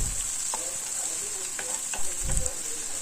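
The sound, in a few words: onions and green chillies frying in oil in a pan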